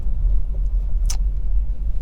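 Honda CR-Z 1.5 hybrid sport coupe on a road test, with a steady low engine and road rumble heard from inside the cabin and a brief sharp click partway through.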